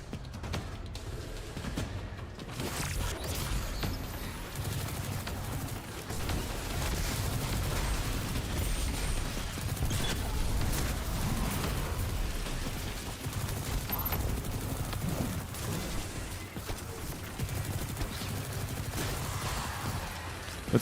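Sustained weapon fire in the Destiny 2 shooter game, dense and continuous bursts of shots with explosive booms throughout, loud and busy with no pauses.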